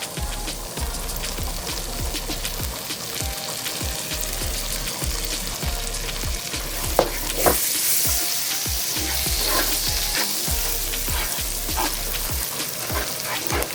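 Garlic butter pasta with parsley sizzles and fries in a pan, a steady close crackle with repeated soft stirring knocks and a brief louder hiss partway through, no speech.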